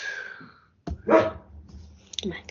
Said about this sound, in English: Did you hear that bark?